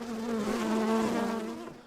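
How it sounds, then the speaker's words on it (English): A honey bee colony nested inside a chimney gives off a steady, close droning buzz with a strong sustained hum, holding even and unbroken from start to finish. "we've got this colony of bees in this chimney"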